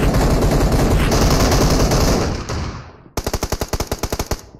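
Shotgun fire in the PUBG Mobile video game: a dense stretch of loud, continuous gunfire fades out, then about a dozen sharp, evenly spaced shots crack in a quick, rhythmic burst up close.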